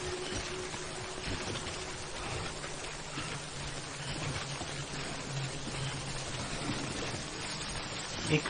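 Steady, dense rainfall in the video game Death Stranding hisses evenly throughout, with a low hum underneath and no break in the downpour.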